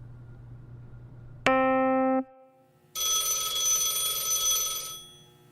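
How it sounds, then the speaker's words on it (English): A phone rings in the video game The Choice, a single sustained electronic tone followed after a short pause by a brighter, buzzing ring, loud and alone with no talk. "Phone's ringing again."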